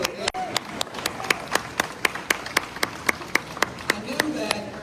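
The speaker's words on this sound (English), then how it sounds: "Somebody wanted to clap for the dynamic delegation." Regular, evenly spaced hand claps at an airport funding event, sounding like a small number of people clapping for a congressional delegation, with faint talk and room murmur underneath.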